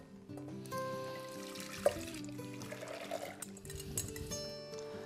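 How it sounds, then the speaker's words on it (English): Eggy orange cream mixture pours into a clean pot with a soft liquid trickle and splash, partly under sustained background music. "you pour in your eggy orange cream mixture into this pot"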